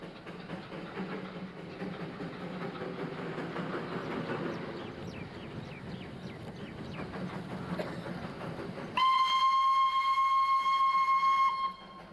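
X-Class steam locomotive on an Indian railway line rumbles past with steady rolling noise and faint rhythmic clatter, then a loud sustained steam whistle blows for a few seconds before cutting off.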